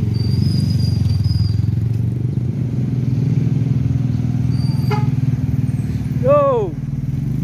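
Mior Holiday tour coach on the road out of Jakarta, a heavy diesel rumble rolling steadily near and loud, with a brief squeal and a short horn-like tone near the end while someone talks over it.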